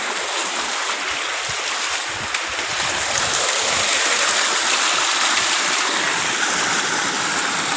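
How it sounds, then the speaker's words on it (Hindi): A tubewell runs and pumps out a strong gush of water, probably a two-to-three-inch flow in a village setting, making a steady, loud, broadband rushing and splashing sound that continues without break and has no talking over it. "इधर देखिए ट्यूबवेल चल रहा है, बहुत ही ज़बरदस्त पानी दे रहा है।"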